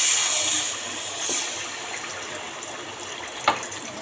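Chicken pieces coated in spices hit hot oil and sizzle with a broad, steady hiss that stays fairly even, broken by a brief crackle spike near the end.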